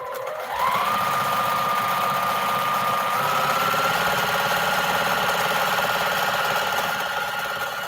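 A sewing machine runs steadily, stitching together 2.5 inch quilt strips in a continuous close whir with a rising motor tone for about seven seconds.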